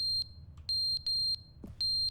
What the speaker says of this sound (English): mind your ears if you're sensitive to alarms.